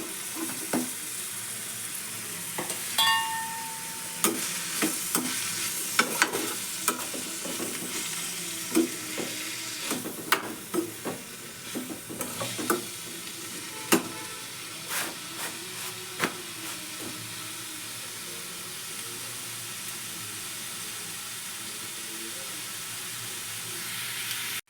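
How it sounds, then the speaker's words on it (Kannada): Tomato, onion and bitter gourd fry in a pan under a steady sizzling hiss, with repeated scraping strokes from a spatula and occasional clinks against the pan, all close and moderately loud. "ಒಂದು 5 to 10 ಮಿನಿಟ್ಸ್ ಈ ಥರ ಫ್ರೈ ಆಗಬೇಕು"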